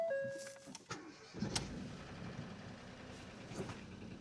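A diesel Audi A4 2.0 TDI cranks and fires up after a turbo rebuild, then settles into a steady idle. The engine clatters close to the listener and is moderately loud, with no talking.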